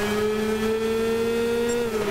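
A kart engine from the GT Kart 125 class in Gran Turismo 6 holds a steady high-pitched rev, a sustained whining drone with little change in pitch, loud and continuous throughout.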